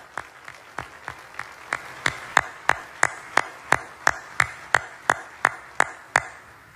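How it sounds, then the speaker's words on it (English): Sharp, evenly spaced handclaps at a National Guard Bureau swearing-in ceremony, beating in a slow, regular rhythm that grows a little louder and more emphatic as it goes on. "One round of applause, please."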